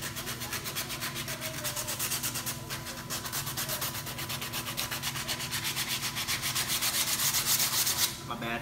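Fast, continuous back-and-forth sanding on a primered Ford F150 truck dashboard, the dense scratchy strokes close and steady, growing slightly louder before a brief pause near the end.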